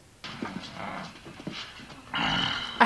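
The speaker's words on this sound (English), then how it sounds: "I hate that he growls." A dog growls and pants close by in short rough bursts, then a louder whining, strained vocal stretch near the end, with no talk over it.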